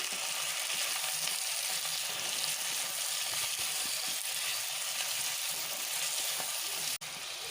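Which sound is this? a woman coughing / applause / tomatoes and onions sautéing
tomatoes and onions sautéing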